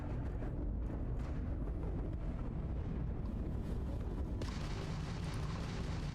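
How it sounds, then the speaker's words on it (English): Weapons fire from a Crimson Fleet ship during space combat in Starfield: a constant, heavy rumbling roar with booming bursts, loud and unbroken, and the texture brightens abruptly near the end. "that's a Crimson Fleet ship bringing its weapons to bear"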